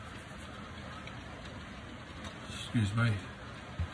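Heavy rain pours outdoors near a tree fallen over a fence, a steady broadband hiss running throughout, with a voice briefly speaking near the end.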